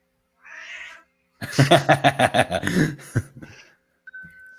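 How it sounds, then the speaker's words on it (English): Two cats fight nearby. A low yowl is followed by a burst of loud, rhythmic caterwauling and hissing screeches, then a brief quieter whine. No one talks over it. "Oh, the cats are fighting again."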